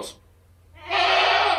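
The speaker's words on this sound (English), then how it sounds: "Hey, goats." A loud, drawn-out bleat from a goat close by, following a brief quieter sound at the start.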